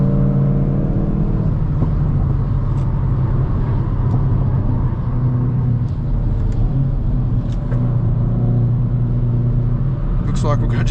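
Hyundai i20 N or i30 N hot hatch engine at speed on the Nurburgring circuit, a loud, steady droning roar with gear changes and shifting revs, while a voice speaks over it.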